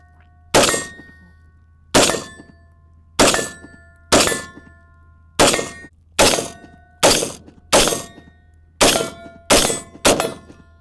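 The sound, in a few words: rifle shots ringing steel targets, Radical Firearms 10.5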